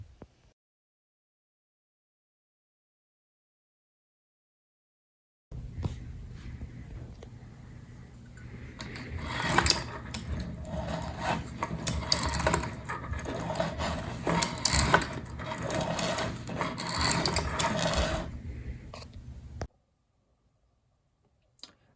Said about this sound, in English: turning the secondary wheel with the peg will cause the flywheel to move